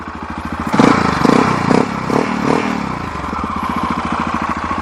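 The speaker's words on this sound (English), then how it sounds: "the sound of the engine, it's not that impressive because it is a single cylinder. It's popping like a tractor" Yamaha XT 660 Z single-cylinder motorcycle engine idling and lightly revved, a loud, close, rough popping thump with a steady tractor-like beat and brief swells of throttle.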